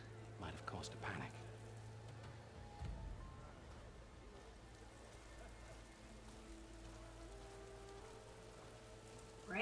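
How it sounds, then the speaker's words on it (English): Rain in the video game Horizon Forbidden West: steady soft patter of rain on surfaces, faint and continuous under a low hum and brief game sounds. "Rain."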